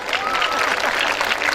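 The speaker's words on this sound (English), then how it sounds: "Give yourself a hearty clap." Audience applause at a school annual day fills the hall, a dense, steady wash of clapping sustained throughout with cheering voices mixed in.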